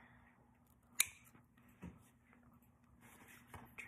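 One crisp, close snip of scissors trimming the ends of a tie, followed by soft fabric rustling and handling noise in a quiet room.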